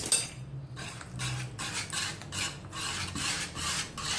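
Butter is stirred into a quick dessert mixture in a pan, producing rhythmic scraping and rubbing strokes of a spoon against the metal, about two per second. The strokes are close and moderately loud, with no speech over them.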